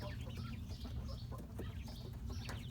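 Farm chickens, roosters and hens, clucking softly in a country morning yard, several overlapping murmuring clucks over a steady low background rumble, fairly faint.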